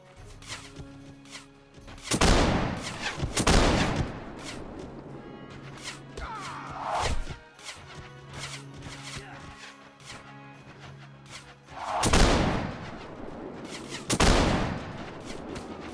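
Gunfire in the castle-set video game Warsword, with several loud, widely spaced shots and sharp cracks over a rumbling in-game background, some in quick pairs and others seconds apart.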